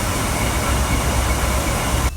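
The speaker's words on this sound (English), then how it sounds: "And this is the sound of a diesel train." Continuous loud rumble of a diesel train passing close by on the Severn Valley Railway, steady engine drone and rolling noise that cuts off abruptly at the end.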